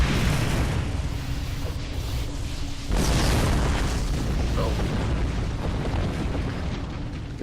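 A ship blows up in the video game Star Trek Online, a deep rumbling boom with a fresh burst partway through, heavy low roar filling the scene.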